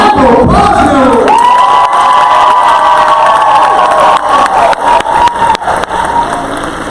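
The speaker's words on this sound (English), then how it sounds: "Stomp your feet, clap your hands, make some noise for Michael Bosno." At a poetry slam, a loud, close crowd cheers, whoops and claps with stomping feet, an enthusiastic roar that holds steady and then breaks into ragged claps and shouts.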